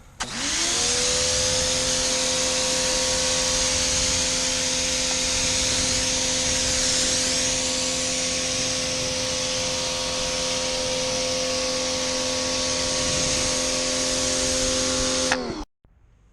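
A 1,600 PSI pressure washer sprays through multiple nozzles at clay and dirt on a truck's axle and four-link arm, a loud, continuous motor drone and hissing spray that cuts off abruptly near the end.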